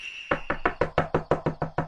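Knocking on a door, ten evenly spaced loud raps in a quick steady rhythm, close and clear with no voices.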